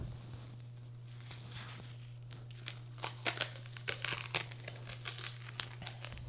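Bicycle handlebar tape crinkles and tears as it is peeled off and rewrapped, crackling softly and irregularly, growing busier toward the end with no talking.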